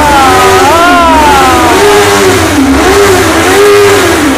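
A motorcycle engine, close and loud, revs up and down repeatedly as the throttle is twisted, its pitch rising and falling in several swells over a steady running rumble.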